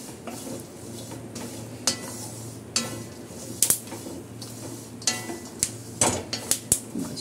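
Dry ginger powder roasting in a pan on a gas stove for panjiri, with a steady soft sizzle under repeated scraping and stirring clinks of a utensil against the pan, several sharper knocks near the end.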